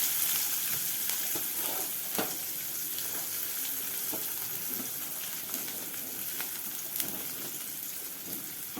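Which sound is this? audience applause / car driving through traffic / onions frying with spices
onions frying with spices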